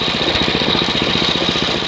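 The engine of an Ariens ST724 snow blower runs steadily after a carburetor adjustment. It gives a close, loud, even putter with a fast regular beat and no hunting, alone for the whole stretch.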